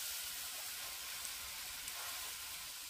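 Water poured into a pan of spiced vegetables frying for a katla fish curry with ridge gourd and potato, giving a steady, even hiss of sizzling steam, close and unbroken.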